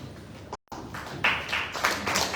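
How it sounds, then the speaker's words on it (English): Participants at a stakeholders' dialogue session applauding, a brief dropout followed by a rising patter of clapping from a modest group in a room, building and lasting to the end. "So I think we should clap for ourselves."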